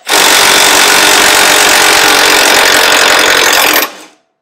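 A power tool buzzes loud and steady for about four seconds while loosening the sway bar on a GMC Sierra Denali during a Fox shocks install, with a spinning stud, then cuts off abruptly.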